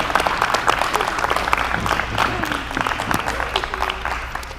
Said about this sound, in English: At this time, we ask you all to clap for both participating teams.